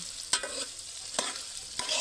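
Green chillies and curry leaves, with mustard seeds, fry in oil as a light sizzle, broken by three sharp scraping stirs of a spoon in the pan.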